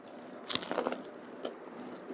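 Crunchy fried chicken strips with a crisp coating are bitten close to the mouth, giving a loud crunch around the middle, a few softer crackles after it and one more crunch later, over a quiet background.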